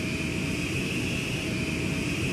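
Steady, loud roar of an airliner's engines and airflow rolling along a runway after touchdown, a continuous broadband rush with a faint high whine, no voices.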